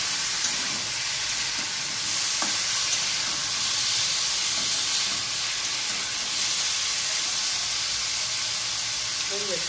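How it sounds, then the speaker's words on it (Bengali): Slices of pumpkin fry in a pan on a home stove, a loud, steady sizzle and hiss of hot oil running throughout with faint stirring clinks and no talk. "চলো দেখি কুমড়ো ভাজার কি অবস্থা"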